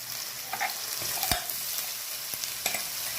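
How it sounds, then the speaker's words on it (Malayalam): Curry leaves and ground paste hit a hot pan of oil while making moru curry, giving a loud, continuous close sizzle with a few light clinks and stirring scrapes, no voices. "ഇനി നമുക്ക് അതിലേക്ക് കുറച്ച് കരിവേപ്പില നമുക്കിടാം. അടിച്ചു വെച്ച ആ പേസ്റ്റ് നമ്മൾ അതിലേക്ക് ഇടാണ്."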